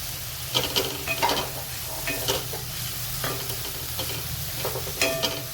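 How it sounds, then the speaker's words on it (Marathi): Capsicum, onion, tomato and coriander sautéing together in a pan: a steady close sizzle under repeated scraping strokes of a spatula, with occasional light clinks against the metal, no talking. "आता हे सगळं आपण चांगलं परतून घेऊ।"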